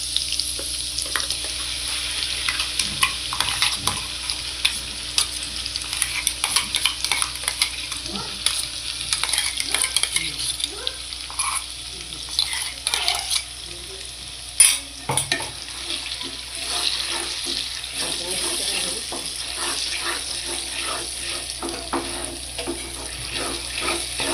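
Ingredients for homemade Schezwan chutney sizzle and crackle steadily in a hot pan for about 24 seconds, with scattered clicks and scrapes as they are stirred and no talking.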